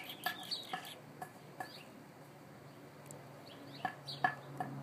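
Cockatiel chicks, about 26 days old, give a few short, scattered chirps and calls at close range over a quiet room background, with brief pauses between bursts.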